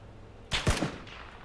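A single close burst of gunfire in PUBG, a sharp crack followed by a second quick shot and a brief tail.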